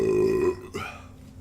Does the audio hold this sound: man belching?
yes